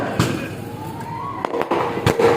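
Firecrackers popping at an outdoor political rally, several sharp bursts scattered over a steady crowd murmur, with louder cracks clustered toward the end.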